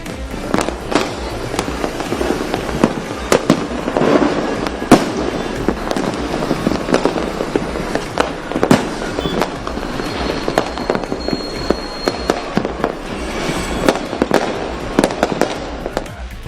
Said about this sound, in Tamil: பட்டாசுகள் வான்வெளியில் வெடிக்கும் போது தெரிக்கும் வண்ண ஒளிகள்